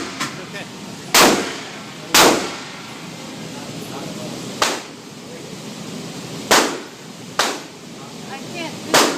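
Machine gun fire outdoors: six loud, separate shots spaced irregularly a second or more apart, each a sharp crack with a short fading tail, with a voice speaking faintly between them.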